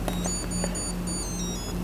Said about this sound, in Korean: 눌렀는데 이렇게 삐비삐삐삐비비비 하는 경우가 있거든요